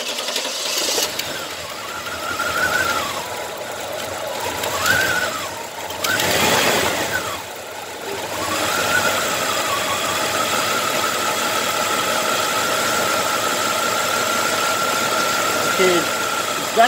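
A 1994 Chevy Caprice with a fuel-injected 5.7 L engine cranks over with a whirring starter and then runs with a steady idle and some faint knock, heard close up while people talk over it.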